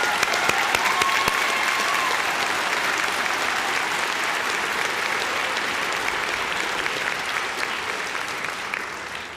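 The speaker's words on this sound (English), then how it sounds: "can we please recognize and give a round of applause for the family and friends that are supporting their graduates?" Sustained audience applause at a high school graduation ceremony, a large crowd clapping steadily in a wide hall, dense and even from start to finish with faint cheers.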